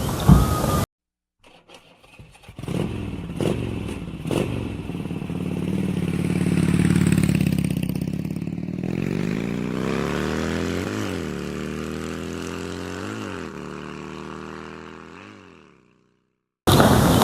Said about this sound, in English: on a 200cc motorcycle that I love so much